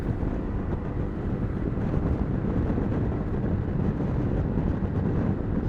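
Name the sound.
wind noise riding a scooter in a video game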